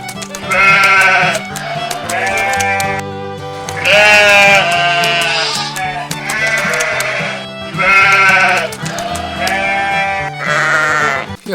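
A ram bleats repeatedly, loud and near, giving a series of six or so quavering calls of varying length separated by short gaps.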